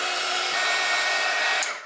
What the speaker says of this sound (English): we're going to verify that with a heat gun here